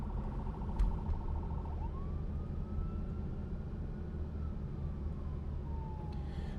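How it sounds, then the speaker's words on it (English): An ambulance siren wails in heavy traffic, its tone sweeping up and then slowly falling as it passes near, heard over the steady road and engine rumble from inside a 1988 Pontiac Trans Am GTA. "now we got an ambulance."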